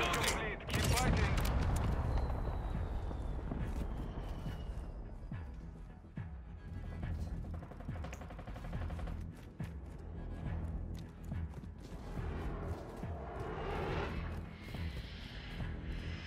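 An artillery fire mission strikes in a video game, with a dense burst of booming impacts at the start and then scattered blasts and gunfire rumbling on, while voices speak over the battle.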